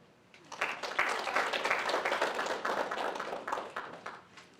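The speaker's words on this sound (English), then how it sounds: "please hold your applause to the end" Dense, steady audience applause at an FFA banquet, many hands clapping together at a moderate distance, rising quickly and holding for several seconds before easing off.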